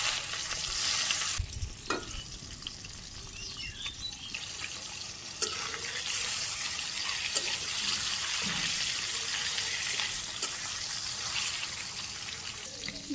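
Rohu fish frying in hot oil in a home kitchen, a steady sizzling crackle running throughout with a few stirring scrapes and clinks, no talk.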